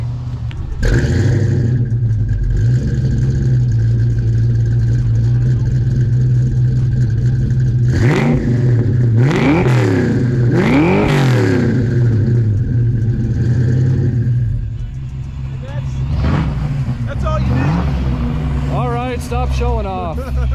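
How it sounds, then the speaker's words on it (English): A Ford Fox Body Mustang with an American Thunder two-chamber exhaust revs a few times, deep engine rumble rising and falling in sharp bursts, close and loud, with people talking over and between the revs. "I can crank it up and give a little rev."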